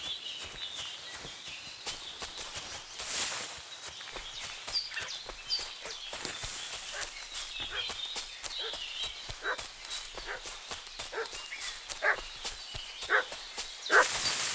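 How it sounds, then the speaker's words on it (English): A dog in the video game Kingdom Come: Deliverance II barking in repeated sharp bursts at moderate distance, amid footsteps and faint hoof clops in a quiet outdoor village scene. "What's that dog making such a fuss about?"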